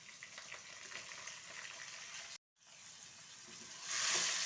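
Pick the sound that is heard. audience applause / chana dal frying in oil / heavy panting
chana dal frying in oil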